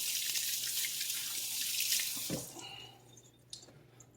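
Fingers are rinsed under a running kitchen sink tap, a bright, steady water hiss that cuts off halfway, leaving a few faint drips and clinks.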